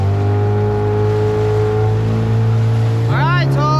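A boat engine being test run drones loud and steady at close range, then revs up near the end as a voice breaks in briefly.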